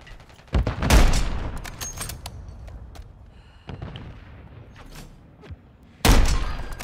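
Heavy anti-materiel rifle shots in Call of Duty MW3, loud booming blasts near the start and end with a softer shot between, each trailing into a rumbling decay.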